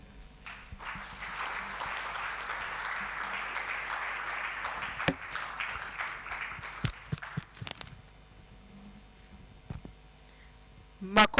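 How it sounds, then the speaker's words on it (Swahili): A large hall audience applauds steadily for several seconds at an engineers' general conference at Mlimani City. The clapping then thins into scattered claps and footsteps, with occasional voices around it. "Makofi tena."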